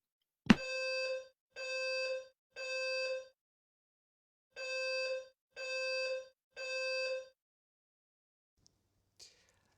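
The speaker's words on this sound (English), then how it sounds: "before the fire alarm hit" A fire alarm sounds in loud, harsh bursts, three pulses, a pause, then three more, followed by near silence with a couple of faint clicks.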